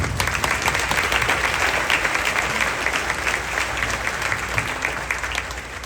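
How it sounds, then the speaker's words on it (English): Audience applause at a middle and high school all-county band concert, a steady dense wash of clapping from a full hall that holds for the whole stretch and eases slightly at the end. "You can applaud."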